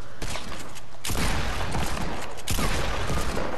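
Bolt-action sniper rifle shots in the video game Fortnite, with loud booming reports at spaced intervals and crackling reverberation filling the gaps.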